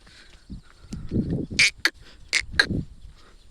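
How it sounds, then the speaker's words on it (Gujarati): Several loud, sharp peacock calls ring out near a deep ravine, a few shrill cries separated by short gaps, over low rumbling and faint background noise. "તો મોરલાનો મિત્રો તમને અવાજ આવે છે."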